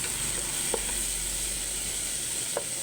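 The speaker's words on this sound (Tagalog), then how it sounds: "Ginisa ngayon guys ang ating gulay guys with ground pork" Ground pork, diced tomatoes, vegetables and cultured mushrooms sizzle steadily in a hot pan, a constant close frying hiss with a couple of faint utensil scrapes.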